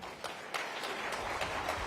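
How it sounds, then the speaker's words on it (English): Audience at a National Governors Association winter conference in Washington, DC applauding, a soft steady patter of many hands clapping, fairly distant and continuous throughout. "Let's give him a round of applause"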